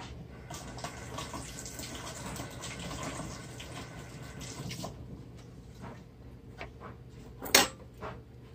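Running water wets freshly pruned mame bonsai roots, a steady mid-level splashing flow for about five seconds that then cuts off, followed by quieter handling noises and a brief sharp knock.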